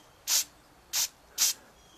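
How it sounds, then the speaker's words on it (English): Spray gun misting medium brown walnut stain onto a 1938/39 Silvertone farm radio cabinet: three short, close hissy bursts about half a second apart, each a quick airy puff with quiet gaps between. "Just barely mist it on there."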